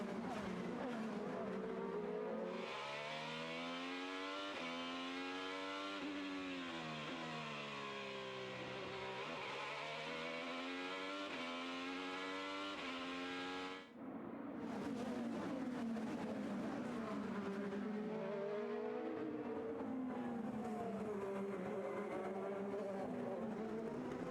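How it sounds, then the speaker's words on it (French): IndyCar race cars roar past at the Long Beach Grand Prix, a loud, sustained engine drone with rising and falling pitch as the cars pass and shift gears, constant throughout with a brief dip midway. "Ah, là ça revient, Kirkwood à moins d'une demi-seconde de Joseph Newgarden"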